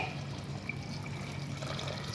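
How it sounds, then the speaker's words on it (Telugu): A faint, steady trickle of water runs continuously into a cooking pot of fried rice ingredients, soft and close, poured gently. "ఇప్పుడు ఇది మంచిగా ఫ్రై అయిన తర్వాత మనము ఎసరు నీళ్ళు పోసుకోవాలి"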